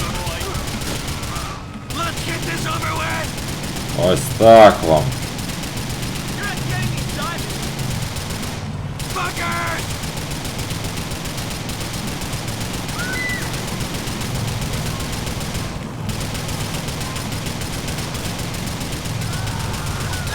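Rapid bursts of gunfire in GTA: The Lost and Damned, heard in short volleys over steady engine and game noise while someone talks across much of it.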